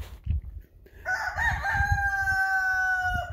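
A rooster crows once in a long, strained call that holds steady to the end, close and fairly loud, with a few clucks and low rustling farmyard sounds before it.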